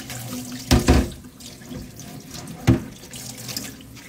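Tap water runs into a kitchen sink while dishes are rinsed, with a steady flow broken by a few louder splashes and clatters.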